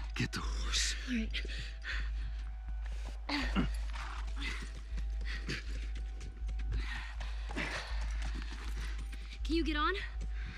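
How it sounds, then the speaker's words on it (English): Horse hooves clip-clopping in The Last of Us, a steady rhythmic plodding at moderate distance beneath an ambient game score, with soft speech-like murmurs and occasional creaks layered over it. "Just get the horse."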